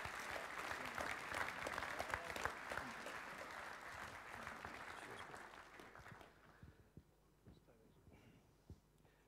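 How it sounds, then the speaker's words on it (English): An audience at a school co-curricular awards evening applauds award winners, a dense round of clapping that gradually fades away to near quiet by the end. "one last round of applause to our 2 major award winners"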